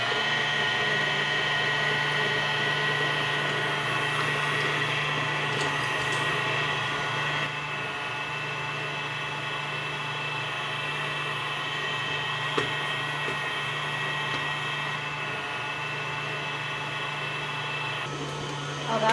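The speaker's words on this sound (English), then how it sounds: "We're gonna blend this on high for 3 minutes." A blender runs on high for bread making, giving a loud, steady motor whir that holds almost unchanged for the whole stretch, dipping slightly in level partway through, with no talking.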